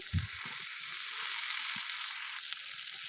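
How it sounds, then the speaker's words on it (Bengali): Okra frying in a pan of onion, salt and turmeric masala gives a steady, continuous sizzle throughout, with a few low knocks near the start and no voices. "তারপরে আমি ঢ্যাঁড়সগুলো ঢেলে দেবো এই মশলার ভিতরেই"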